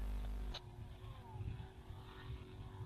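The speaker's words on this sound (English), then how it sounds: "You can hear the boat bang the limiter as it flies up out of the water" A speedboat engine roaring at speed on open water, revving hard with a sharp stutter as it hits the rev limiter while the boat flies out of the water, heard amid steady mechanical noise.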